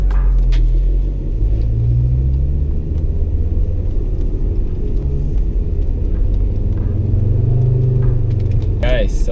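Inside a Volvo 850 T5 on the move, a loud, constant low road rumble fills the cabin, with faint rattles and knocks mixed in and a voice speaking briefly near the end.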